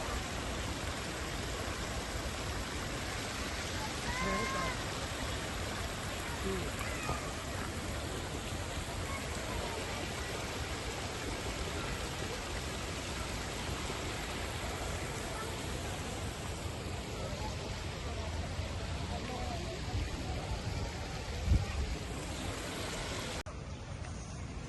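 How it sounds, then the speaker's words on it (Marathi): Babbling water of a small garden stream flows steadily throughout, a continuous broadband wash close by with no voices, ending with a brief knock near the end. "पाण्याचा खळखळणारा वाहता आवाज ऐकून मन अगदी प्रसन्न होतंय"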